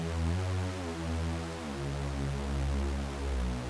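A thick, detuned Reese bass patch from the Serum synth plays alone, a sustained growling tone with slowly shifting, beating harmonics held steadily loud throughout.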